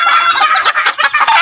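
Backyard chickens clucking up close, a quick, loud burst of overlapping clucks and squawks in uneven rhythm.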